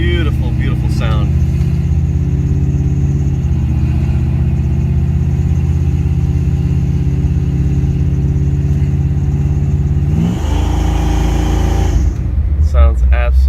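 A 1957 Chevrolet Bel Air engine runs steadily in drive, a loud, constant low rumble that shifts in tone near the end, with talking over it.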